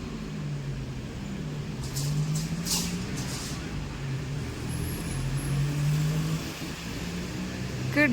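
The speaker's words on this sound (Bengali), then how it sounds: "সকাল সকাল এত গাড়ির আওয়াজ, বাবারে বাবা।" Morning road traffic outside, with car engines humming and revving in a steady, moderately loud rumble and occasional passing vehicles.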